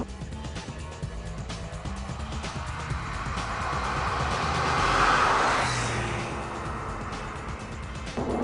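Porsche 996 flat-six engine heard from inside the car while driving, a steady loud drone with road and wind noise that swells gradually as revs rise, then settles back.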